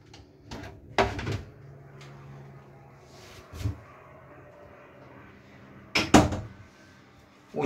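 On a 2007 Bavaria 37 Cruiser yacht, the toilet compartment door is worked open and shut: several sharp wooden knocks and clunks with a faint creak, close by, separated by quiet pauses.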